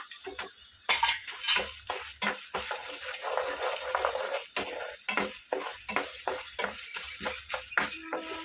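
Mustard seeds and cumin crackle in hot oil in a pan as they are stirred, giving bursts of popping and spattering with scraping strokes in an irregular rhythm, moderately loud and close.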